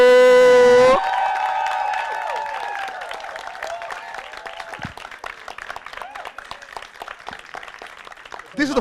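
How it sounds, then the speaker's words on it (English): A studio crowd applauds and cheers for John Boyega, a dense wash of clapping and whoops that follows a sustained musical tone and carries on for several seconds, with talk mixed in. "make some noise and clap for my guy, John"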